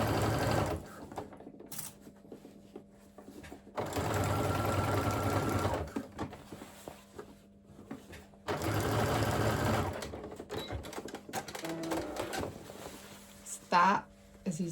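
A sewing machine running a long basting stitch along a trouser pocket, heard as two steady whirring runs of a couple of seconds each. A person talks in the quieter gaps between them.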